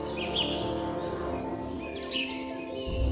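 Birds chirp and twitter in the Himalayas of Nepal in quick rising and falling phrases, fairly faint, over a steady low background hum, with no one speaking.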